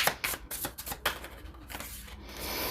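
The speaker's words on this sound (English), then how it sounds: "when it doesn't feel right, I just keep shuffling" Tarot cards being shuffled by hand, a fast run of crisp riffling snaps and soft slides that sounds close and alone, with no talk over it.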